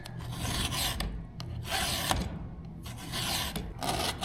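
A round file rasps across the teeth of a Stihl MS 462 chainsaw chain on a tabletop, in repeated close strokes with short pauses between them.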